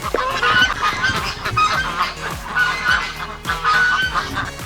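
Ducks let out of their pen in the morning quack and honk loudly and repeatedly, several birds calling close by in overlapping bursts throughout.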